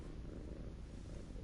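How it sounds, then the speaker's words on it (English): A cat purring in the video game The Evil Within, a low continuous rumbling purr, steady and soft, heard alone for a brief moment. "I just noticed the cat purrs."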